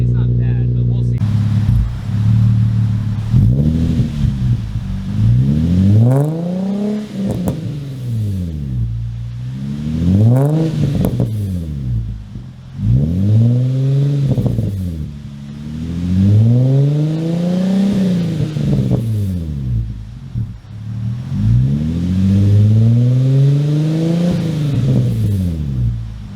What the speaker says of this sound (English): we'll let it warm up and we'll do a few little revs